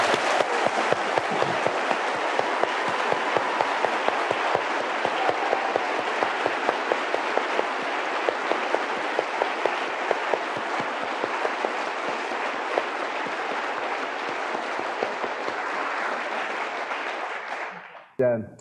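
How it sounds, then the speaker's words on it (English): A large conference crowd applauds Robert Anton Wilson at a 1991 psychedelic gathering, a dense sustained wash of clapping that runs steadily for most of the stretch and then stops abruptly near the end. "Would you join me in a round of applause for Robert again?"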